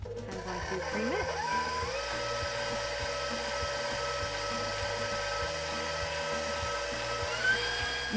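A stand mixer creaming butter and sugar whirs steadily with a high motor whine and a rhythmic beater pulse. It stays continuous and close throughout, and a speaking voice is heard at the start.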